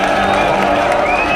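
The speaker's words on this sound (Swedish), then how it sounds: "Med jubel." Crowd cheering and whooping at an announcement that The Pirate Bay is back online, a dense, loud wall of voices and applause filling the whole moment with no gaps.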